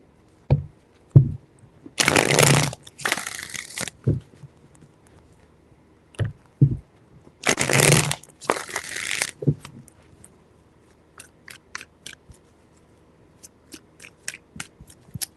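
Tarot cards are shuffled in several quick riffling bursts, separated by taps and soft handling noises, close and distinct.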